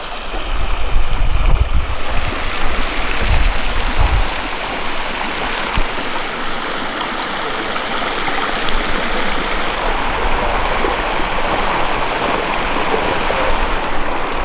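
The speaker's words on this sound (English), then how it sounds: "Gently flowing sulfur hot spring right underneath our feet." Gently flowing sulfur hot spring water trickles over mineral terraces in northern Yellowstone, a steady broadband wash with a few louder splashes near the start, heard up close and alone without talk.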